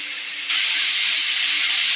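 Potatoes sizzle in a pan with dried red chillies and five-spice seeds, a steady loud hiss of frying that swells slightly as the cooking goes on, with no voices over it.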